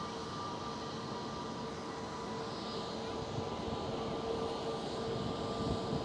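Transavia Airbus A321 airliner passing, a steady distant engine drone with a faint tonal hum that swells slightly toward the end.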